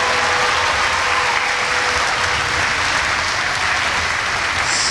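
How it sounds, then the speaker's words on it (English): Sustained applause from an audience at a community charity skating event, a dense, even wash of clapping that holds steady for several seconds with no voices over it. "So let's have a nice round of applause, first of all, for the volunteers."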